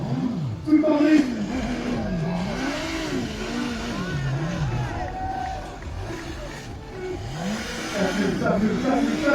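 A faired motorcycle's engine revs up and down in a steady rhythm while the bike slides with the rider's feet kept on it, loud and close, the pitch rising and falling in repeated swells.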